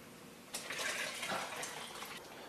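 Water pours steadily into a cooking pot, about 7 cups, with a soft rushing splash that starts suddenly and continues at a constant level.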